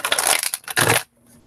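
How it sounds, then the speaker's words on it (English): Two quick, crisp riffles of stiff tarot cards being shuffled close by, papery and bright, followed by near silence. "Beautiful shuffle."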